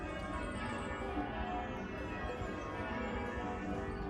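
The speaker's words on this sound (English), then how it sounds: "these bells go on for a long time" Church bells peal on and on near Hillsborough Forest, a dense, continuous ringing of overlapping tones at moderate distance, steady for the whole stretch with no voices.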